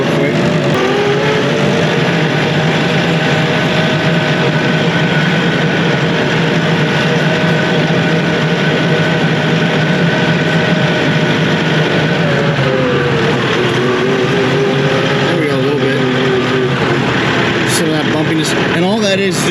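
A gear drive tractor engine drones loudly and continuously as a foot works the throttle pedal, its pitch rising and falling with the revs, heard up close throughout.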